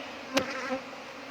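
Bees buzz in a faint, steady hum around a nest being tied up, with one brief sharp tap partway through.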